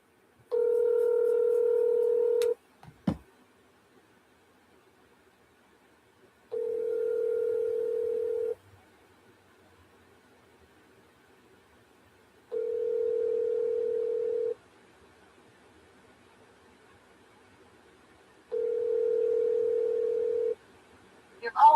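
A telephone ringback tone while a call is being placed: four evenly spaced two-second beeps separated by long silences, loud and clear, with a short click between the first two.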